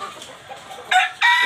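Ayam Cemani and ornamental chickens cluck on a farm in Kedu tourism village, soft murmurs first, then two loud, close bursts of squawking calls.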